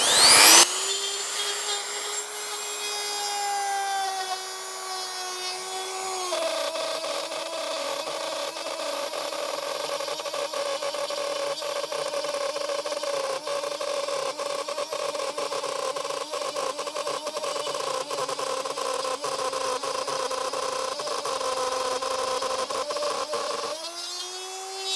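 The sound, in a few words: Parkside rotary cutter cutting at 22,000 rpm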